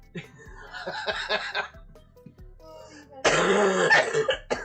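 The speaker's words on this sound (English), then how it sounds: "See? That's it. That's that cough." A harsh, dry cough bursts out after some throaty rasping and breathy sounds, close and loud, with no talking.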